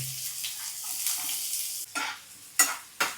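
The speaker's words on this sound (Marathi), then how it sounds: "पॅन गरम झाल्यावरती तेल टाकलं तेल गरम झाल्यावरती कांदा टाकलाय" Chopped onion fries in hot oil in a pan, giving a steady close sizzle, then three sharp bursts of louder crackling as it is stirred near the end.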